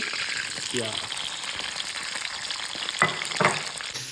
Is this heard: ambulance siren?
no